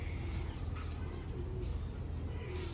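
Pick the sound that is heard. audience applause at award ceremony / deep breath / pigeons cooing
pigeons cooing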